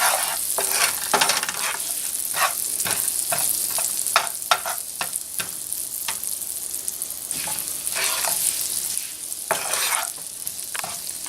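Food cooks in a pan of bacon drippings with a continuous loud sizzle and crackle, while a utensil scrapes and stirs in irregular strokes throughout.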